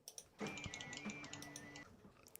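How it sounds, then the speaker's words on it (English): Computer keyboard typing: a quick run of soft, faint key clicks under a low steady hum, heard in the background at a distance. "why can I hear the keyboard?"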